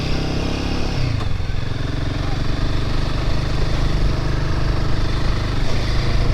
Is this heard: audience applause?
no